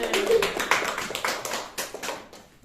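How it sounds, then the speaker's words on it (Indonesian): Classroom applause for two students during a madrasah teacher-training practice lesson: a short burst of scattered hand claps from a small group, fairly close, tapering off over a couple of seconds. "tepuk tangan buat Agus sama Rajail."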